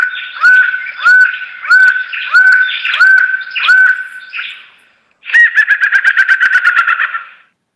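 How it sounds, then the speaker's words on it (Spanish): Recorded call of a laughing falcon: a series of loud, evenly spaced rising two-part cries, a short pause, then a rapid run of quick chattering notes, close and clear with no talk. "este es un pájaro que en inglés lo llaman el halcón risueño"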